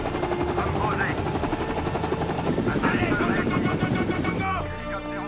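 A helicopter on the ground with a loud, steady rotor chop and engine whine, mixed with rapid gunfire-like bursts and voices, then a slight drop in level near the end.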